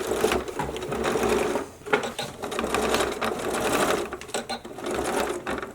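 A sewing machine stitches fabric for an IKEA chair makeover, running in close mechanical bursts that slow and pause briefly between runs.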